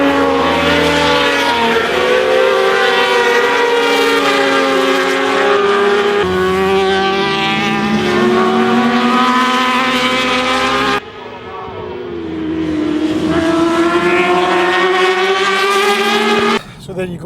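Racing motorcycles scream past at Knockhill circuit in Scotland, loud, high-revving engines rising and falling through gear changes as bikes pass close by, a continuous roar with a short lull near the end.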